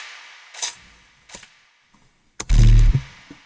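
A sharp gunshot sample in a beat repeats several times with echoing delay, ending in a loud, booming burst and one last faint crack.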